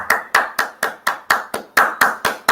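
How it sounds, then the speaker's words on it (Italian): Handclaps for Lorenzo Insigne leaving the pitch, heard from a live reaction to a Napoli-Lazio Coppa Italia match: about ten sharp, evenly spaced claps in a quick steady rhythm, close and loud, with no voices. "Applaudiamo Lorenzo, tutti quanti."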